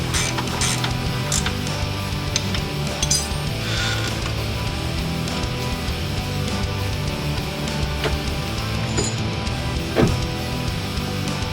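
Metallic ratcheting and clinking while the control arm bushing bolts are tightened on a Porsche 911 996 or Boxster 986 in a home garage, with irregular close clicks, creaks and tool taps over steady background noise.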